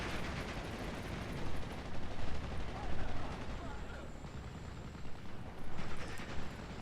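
Battlefield gunfire in the WWII strategy game Steel Division: Normandy 44, with rattling machine-gun bursts and dull explosions in dense, continuous layers, some nearer shots standing out over the din.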